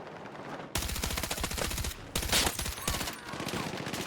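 Rapid automatic gunfire from the Battlefield 6 video game bursts in loud, tightly spaced volleys with brief gaps between them.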